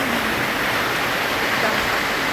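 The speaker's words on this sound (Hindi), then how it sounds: "अरे इतनी बारिश" Heavy rain pours down as a loud, dense, continuous hiss that stays even throughout, with no pauses or distinct drops.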